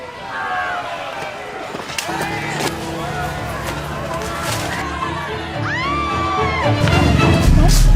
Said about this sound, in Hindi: ये भागदड़, चीख पुकार और शोर क्यों?